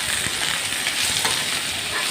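Chopped onion and green chillies frying in a pan, a steady close sizzle and hiss with a few small stirring clicks.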